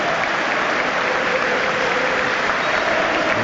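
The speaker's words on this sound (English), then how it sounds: "The Leeds fans stand to applaud and remember one of their own, Robert Hisco." Leeds United supporters in a packed stadium stand and applaud during a match against Norwich City, a broad, continuous roar of clapping that stays even and full from start to finish.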